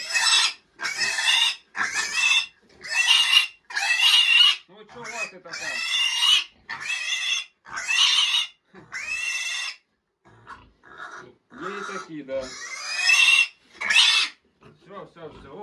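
A piglet being dewormed squeals loudly again and again in short, shrill bursts, with brief pauses between them and a person speaking quietly in the gaps.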